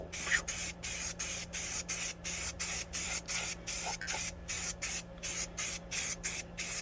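Fusion all-in-one gloss black spray paint hisses onto a tile in short, evenly spaced bursts, about a dozen sharp sprays in a steady rhythm, close up.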